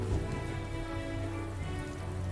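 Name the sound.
rain in video game Metaphor: ReFantazio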